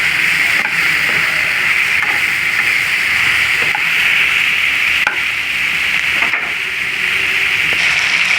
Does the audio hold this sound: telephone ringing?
no